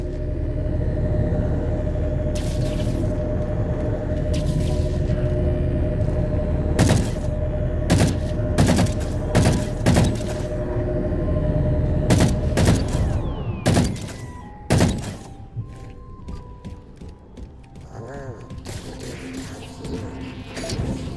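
Halo 4 game combat: bursts of heavy gunfire and thudding impacts strike a ship in clustered volleys over a low rumbling engine drone, loud and close, with no voices.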